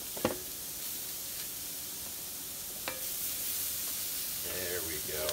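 Food frying in a pan while being stirred at home: a quiet, steady sizzle with a couple of sharp utensil taps, and a brief voice-like sound near the end.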